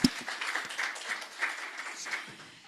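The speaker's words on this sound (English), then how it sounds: "Can we have another round of applause for our panel as they make their way back to their seats?" Audience applause for a conference panel on global trade cooperation as the panelists return to their seats, a moderately loud, steady wash of many hands clapping that fades slightly toward the end.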